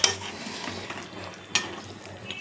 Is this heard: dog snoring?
no